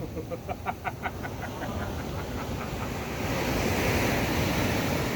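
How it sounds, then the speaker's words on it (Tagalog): Big ocean surf rolls and breaks on a crowded beach in a steady wash of noise, with wind buffeting the microphone and faint rhythmic tapping early on. "Laki naman ng alon, no?"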